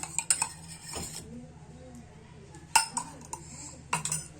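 A spoon scrapes and clinks against a pot while coriander and ghee are stirred into dal khichdi, giving a few sharp metallic knocks and softer scraping between them at close range.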